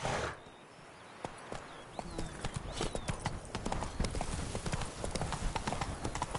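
Roach, a horse in a video game, clip-clops with steady rhythmic hoofbeats at a walking pace over a continuous outdoor ambience, moderately close, with no voices.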